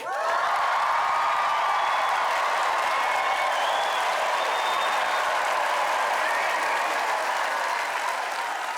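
A large audience applauds continuously at a live Survivor New Zealand finale held at the Civic theatre, with sustained loud clapping and scattered cheers filling the hall for the full stretch.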